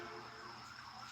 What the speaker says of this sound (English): And there's an ambulance going by.